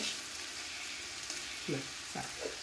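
Fish masala with tomato, onion and greens frying in a pan gives a soft, steady sizzle at low volume. There are a few light stirring scrapes and brief faint voice-like sounds near the end.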